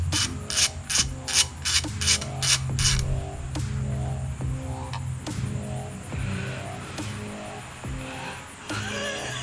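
Ratchet wrench turned during an engine tune-up on a car build: a quick series of sharp clicking pawl strokes early on, then slower spaced clicks over a steady background hum, close and fairly loud.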